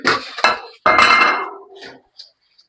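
Metal pots and dishes clatter and clink close by in several sharp bursts, followed by a few faint ringing taps.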